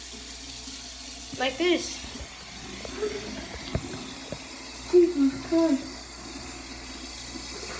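Cold tap water runs steadily over a child's head while waves are being set in the hair, a low continuous wash with a few splashy bursts, and voices talk briefly over it.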